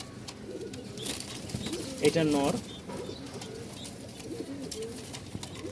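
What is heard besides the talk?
pigeons cooing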